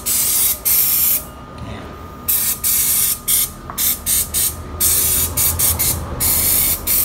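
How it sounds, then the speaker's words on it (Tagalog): Cleaner sprayed under a scooter to wash off excess leaked oil, coming as a series of loud, close hissing bursts of varying length separated by short pauses. "So, talilinisan ko yung ilalim para mawala yung mga excess oil dun sa ilalim"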